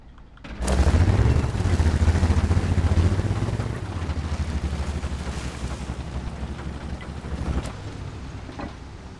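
A damaged tank engine in World of Tanks gives off a loud, rough, wind-like rumble that swells after a sharp start and then settles into a steady drone.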